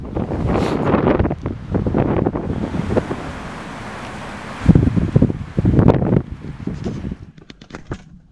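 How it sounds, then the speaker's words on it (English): Gusty wind buffets the microphone at a high spot in Colorado, coming in loud irregular blasts and rumbles with brief lulls between them, and no voices are heard. "it's starting to get windy again"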